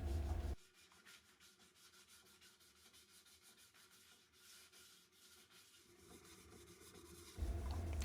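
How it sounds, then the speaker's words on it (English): Hand-sanding a wooden bowl made with a router and jig, a steady soft scratchy rubbing that runs continuously at close range with no talk. "And then of course, a little more sanding."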